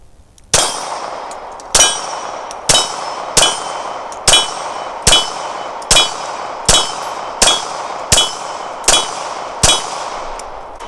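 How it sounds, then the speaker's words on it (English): A Ruger SR9 pistol fires a box of ammunition, dry with no lubrication, in a steady series of about eleven sharp, loud reports spaced roughly a second apart, each with a short ringing decay and no talk. "I'm gonna run a box through it, completely dry, no lube"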